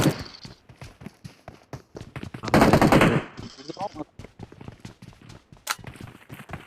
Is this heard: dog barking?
no